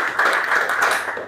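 A group clapping in a classroom clap game, a quick burst of several overlapping hand claps in rough rhythm, close and fairly loud, with no talking.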